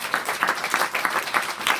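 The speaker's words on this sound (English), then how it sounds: "Can we give a round of applause for two very brave ladies?" A round of applause from an audience at a health event, dense steady clapping from many hands, close and fairly loud throughout the short stretch.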